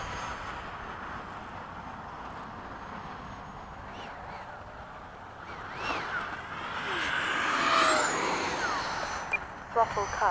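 An E-flite 80mm F/A-18D RC jet with afterburner flies after sunset, its ducted-fan whine faint at first, then swelling into a louder, rising pass before easing off, with brief sharp sounds near the end.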